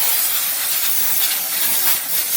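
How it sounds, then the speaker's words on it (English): A steady, loud hiss of aerosol spray runs continuously and close by, bright and unbroken, with no voices, sprayed around diesel fuel injectors. "I'm just going to give this area a little spray."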